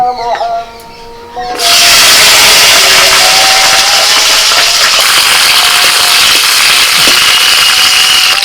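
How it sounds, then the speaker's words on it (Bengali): Flat beans drop into hot oil in a wok, setting off a sudden loud, dense sizzle that holds steadily after a brief quieter moment, with no talk. "কড়াইতে অল্প পরিমাণে তেল দিয়ে দিয়েছি এবার তেলের মধ্যে আমি দিয়ে দিচ্ছি সিম"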